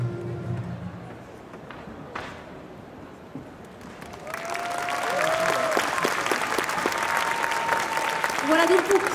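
Audience applause at the LGS 2019 cosplay contest: scattered noise at first, then loud, sustained clapping from the crowd that swells and holds steady to the end.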